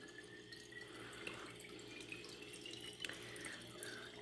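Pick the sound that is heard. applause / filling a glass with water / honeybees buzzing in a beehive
filling a glass with water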